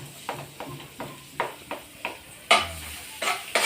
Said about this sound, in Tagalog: At lalagay na natin yung ating bawang.